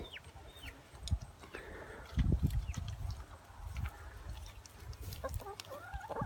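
Chickens cluck and squawk in short bursts outdoors, with scattered bird calls and rustling noises nearby.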